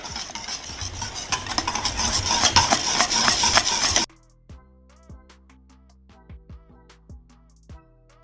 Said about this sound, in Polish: energicznie mieszamy, płomień zmniejszamy, ale cały czas mieszamy aż do zgęstnienia